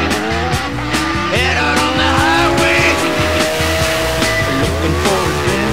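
A dragster roars at full throttle on a drag strip at a French championship, loud and close, engine notes climbing in repeated surges with harsh crackling bursts throughout, no voices.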